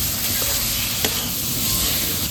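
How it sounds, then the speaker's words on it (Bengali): Potatoes coated in coriander powder and chilli powder sauté in a pan, giving a loud, continuous sizzle with a single utensil tap partway through. "এই আলুটা দিয়ে একটু কষিয়ে নেব"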